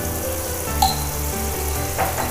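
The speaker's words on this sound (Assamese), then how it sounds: "ইয়াৰ কেঁচা গোন্ধটো যোৱালৈকে ভাজি লওঁ" Ginger garlic paste sizzles in hot oil in a pan with cardamom while cooking an eggplant masala, a steady close frying crackle with a couple of brief stirring clinks.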